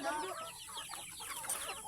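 A rooster clucks softly in a quick series of short calls, faint and somewhat distant.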